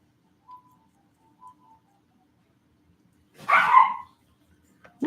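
A dog gives one short bark or yelp, heard at a distance, after a few faint, sparse sounds in a quiet room, with a second brief bark cut off at the end.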